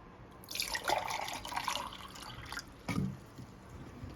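Water is poured into a measuring cup while making homemade soap, a faint close trickle and splash in short uneven bursts, with a brief louder splash near the end.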